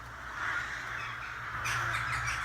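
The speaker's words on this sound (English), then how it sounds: "There's a flock of crows." A flock of crows cawing outdoors, harsh overlapping caws from several birds at a middle distance, with a louder burst of calls near the end over low background rumble.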